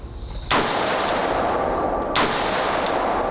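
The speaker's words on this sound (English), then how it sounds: "Let's see a couple of shots on 100." Two rifle shots are fired at a 100-yard target by a rifle topped with a Swampfox Arrowhead 1-10 LPVO scope, each a sharp, loud crack followed by a long, echoing decay, about one and a half seconds apart.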